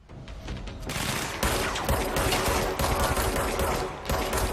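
Sustained automatic gunfire from the supernatural shooter game Control, a loud continuous fusillade of rapid shots that fills the whole stretch with dense bursts.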